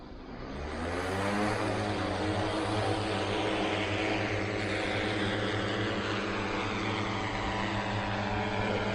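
Ultralight drone at a flight training site starting up and lifting off, a loud, close multi-rotor whine and hum that swells and holds steady with a strong layered buzzing drone throughout.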